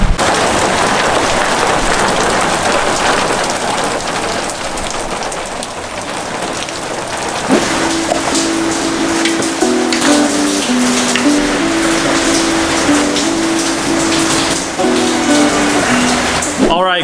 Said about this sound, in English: and it's starting to hail